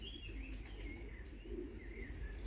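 Pigeons in a loft, soft cooing and chirping calls at moderate distance over a low background hum.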